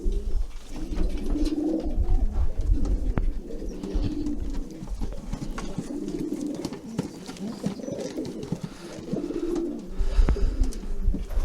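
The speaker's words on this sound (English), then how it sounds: "This is a racing pigeon." Racing pigeons coo in soft, repeated rumbling phrases, close by, with light rustling and background noise between the calls.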